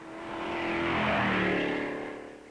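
In the 1950s, a sports car races along an airport runway at Turner Air Force Base, its engine whine swelling as it approaches, peaking loud as it passes close, then fading away, with no talk over it.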